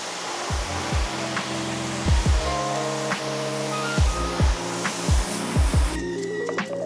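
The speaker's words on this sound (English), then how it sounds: "simply grab your hose once again and then rinse off the remaining residue" A garden hose sprays water to rinse residue off a car interior part, a steady hissing rush with rhythmic low thumps beneath.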